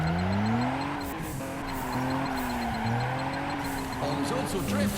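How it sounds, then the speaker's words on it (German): A car drifting in the racing video game Juiced 2, engine droning steadily with tire squeal running through, while someone talks over it throughout. "ich drifte irrsinnig gern in den Spiel"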